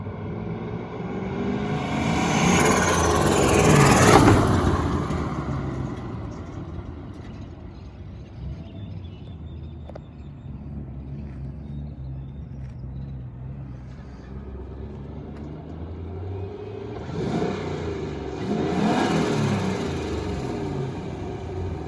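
A turbocharged LS-swapped Miata engine idles with a rough rumble. It swells into two loud revs, one early and one near the end, separated by a long stretch of idling.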